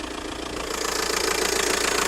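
Volkswagen Passat Sport 170 estate engine running steadily in its engine bay, a close, even mechanical idle with a light rhythmic knock and rattle that grows slightly louder partway through, with no talking.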